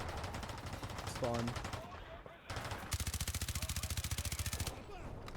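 Infantry small-arms gunfire in War Thunder, a sustained rapid burst of automatic shots in a steady rhythm, loud and close, with brief earlier shots and a voice speaking briefly over the firing.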